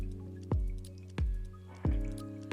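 Water from an automated garden watering system drips in three separate, evenly spaced drops with a soft wet plop each, close and quiet.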